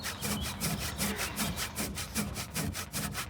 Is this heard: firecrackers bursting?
no